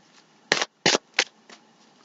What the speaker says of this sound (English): here I am shuffling again.